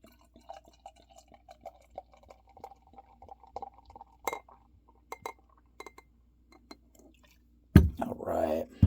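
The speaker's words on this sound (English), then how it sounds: "let's pour it in the glass" Black Barn Program No. 47 pale ale pours into a glass in a short, close, splashing burst near the end, after a stretch of quiet light clinks and taps.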